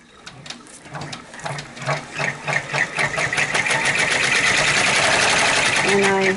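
A domestic embroidery machine sews an in-the-hoop placement stitch for the eyes of a tooth fairy pillow, its needle starting in rapid rhythmic taps that speed into a loud steady mechanical whirr, close and continuous.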